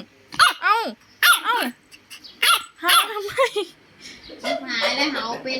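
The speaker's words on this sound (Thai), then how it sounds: "แม่เฟอร์ฟี่มาวันแรก แม่เฟอร์ฟี่ก็ เห่าเลยดื้อเลยนะคะ" A dog barks repeatedly in short, loud bursts close by, with a brief growl and a voice talking near the end.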